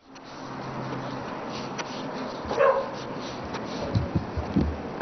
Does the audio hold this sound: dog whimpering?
yes